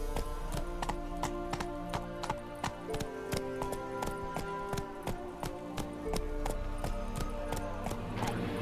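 The horse Roach trotting in The Witcher 3, steady rhythmic clip-clop of hooves, crisp and close, over a soft ambient music bed.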